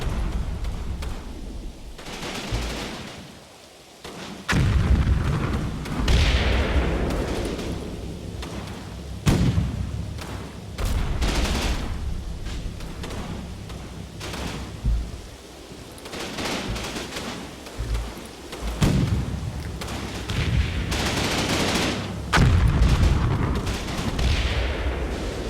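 Artillery rounds fire in the Combat Mission: Battle for Normandy game, heavy booms and rumbling blasts recurring irregularly over a constant low battlefield roar, some near and loud, others more distant.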